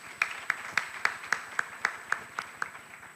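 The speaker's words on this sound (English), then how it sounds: "I think our Master of Ceremonies is worth a warm applause." Faint, evenly spaced claps ring out for a master of ceremonies at a Ugandan journalism awards event, about a dozen crisp, distinct hand claps in a steady rhythm rather than a full roaring crowd.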